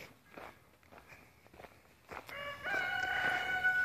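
Footsteps shuffle near a chicken pen before a rooster lets out a loud, drawn-out crow, close by, with faint clucking around it.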